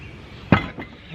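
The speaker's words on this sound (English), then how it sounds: "I've decided I'm probably gonna put this bell on the front of my workshop with a hammer" A hammer striking a metal bell meant for a workshop entrance, heard as one sharp clanging hit followed by a fainter second strike, fairly close with no talk.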